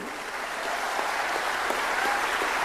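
An audience at the first Justice J.S. Verma memorial lecture in Madhya Pradesh applauds, a dense, steady wash of many hands clapping at an even level for the whole stretch, with no voices over it.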